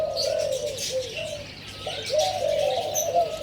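A spotted dove coos close by in a soft, repeated rhythm of low phrases, with faint chirps from other birds in the background.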